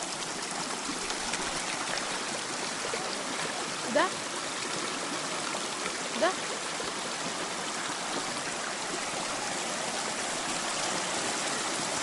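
Steady broadband rush of a flowing mountain stream in the Carpathians, continuous and fairly close, with a person briefly speaking twice over it.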